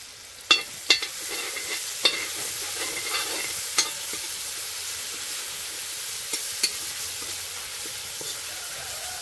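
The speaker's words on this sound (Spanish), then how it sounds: "Y ahora le vamos a sofreír ajo para empezar a darle sabor a este locrio." Garlic sautés in a pan as the start of a Dominican locrio de pica pica, giving a constant moderate sizzle broken by sharp spoon-against-pan clicks and stirring knocks, with no voices.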